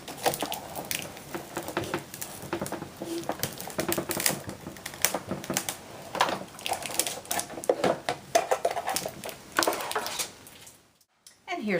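Paper sandwiched between cutting pads being cranked through a manual die-cutting machine, a steady run of dense clicking and ratcheting that carries on close and fairly loud for about ten seconds, then stops abruptly.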